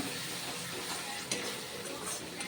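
Spices for a Bengali egg curry, including Kashmiri chilli powder, sizzle steadily in a pan while being stirred, a dense continuous frying hiss with a faint scrape partway through and no voices.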